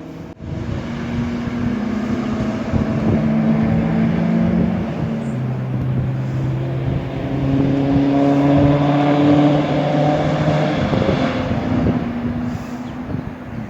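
Engine roar of race cars passing at a distance at the Nürburgring, heard from behind the fence, overlapping droning tones rising and falling steadily throughout, fairly loud with no talking.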